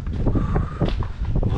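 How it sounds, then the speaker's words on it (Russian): Brief gusty wind buffeting the microphone in the Crimean mountains in winter, a loud low rumble with a faint whistling tone. "конечно, ветер."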